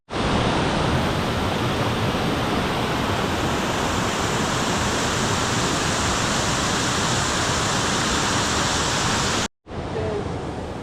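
Small cascading waterfalls between stepped lakes among green trees, a continuous broadband rush of falling water, loud and close, with a brief dropout near the end before the roar resumes.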